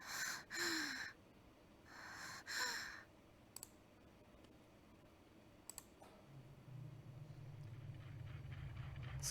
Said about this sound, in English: Tsubakiko's breathing grew labored again.